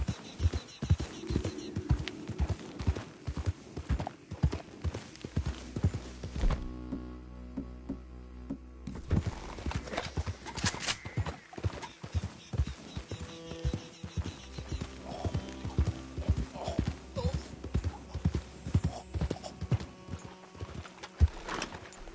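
Horse hooves in Red Dead Redemption 2 clip-clop at a steady gallop, mixed into dense game music and effects that continue throughout.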